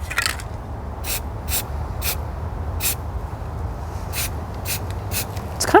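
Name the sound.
spray paint can spraying paint on artwork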